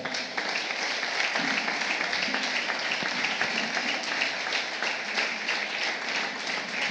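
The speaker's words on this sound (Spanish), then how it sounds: "Quiero que me le den otro aplauso al Señor." A church congregation gives sustained applause during a lively Spanish-language service with a pastor, steady dense clapping throughout, with faint voices underneath.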